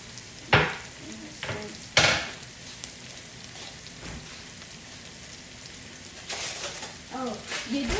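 Shallot and garlic frying in a pan, a steady crackling sizzle with a few sharp clinks and scrapes from utensils, close, with a voice speaking intermittently over it.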